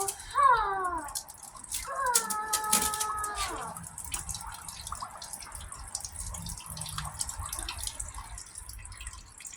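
Water from a hole-punched plastic bottle in a pressure experiment spurts and splashes into a container, with trickling, dripping and rattling close by, brighter streams early and then a softer steady patter.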